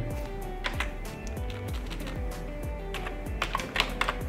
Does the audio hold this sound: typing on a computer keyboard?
yes